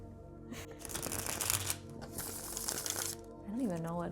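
Playing cards are shuffled close up in a dense crackling flutter lasting about three seconds, followed by a brief voiced sound.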